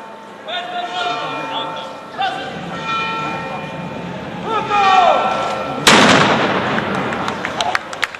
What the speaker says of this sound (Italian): Il colpo di cannone, l'applauso del pubblico.